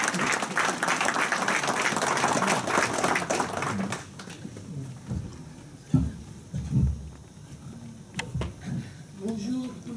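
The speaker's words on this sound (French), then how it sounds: "Vous pouvez l'applaudir" Audience applause at a republican banquet in Paris, a dense burst of clapping for about four seconds that then thins out into scattered noises and murmuring voices.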